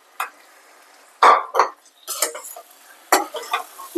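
Mutton pieces dropped into a pan for Andhra-style cucumber mutton curry, with several close, brief clattering and scraping bursts as the meat is tipped in and stirred against the metal.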